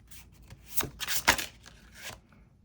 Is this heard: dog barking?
no